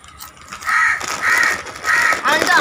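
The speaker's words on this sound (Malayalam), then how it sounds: "ഈ കാക്ക എപ്പോഴും വരും, എന്തൊരു ശല്യാണ്" A crow caws four times in a row, close and loud, each call short and harsh, with a brief pause between calls.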